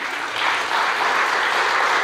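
A congregation at a Sunday church service applauds singers with steady, dense clapping that holds at an even, fairly loud level throughout, with no talking.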